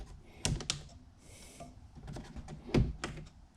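The plastic clips on an Audi Q7 air filter housing snap open, a few sharp, close plastic clicks with a soft scraping rustle between them.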